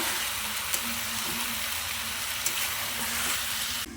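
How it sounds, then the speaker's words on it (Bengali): Chicken pieces sautéing with whole spices in a pan give a steady, close, even sizzle with a few faint scrapes, running alone throughout. "দেখুন বন্ধুরা, মাংসটা কষানো হচ্ছে, কালারটা দারুণ এসেছে।"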